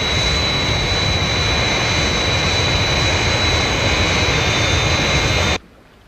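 A Thunderbirds television aircraft roars through its takeoff as a loud, constant jet rush with a high whine running through it, then cuts off abruptly near the end.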